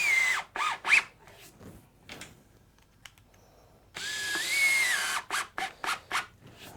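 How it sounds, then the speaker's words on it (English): A Festool drill fitted with a Phillips bit drives a couple of screws, whining up in two short bursts separated by clicks and fiddling, close and moderately loud. "we'll quickly change to a bit with a Phillips bit. Just throw some couple screws in that."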